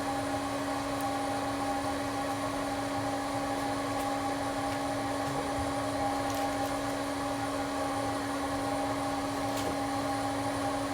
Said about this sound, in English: Of course, don't forget your ventilation.